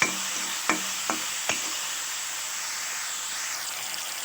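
Thinly sliced onions frying in hot oil give a steady, close sizzle, with a few sharp clacks of a utensil against the pan near the start before the crackle settles into an even hiss.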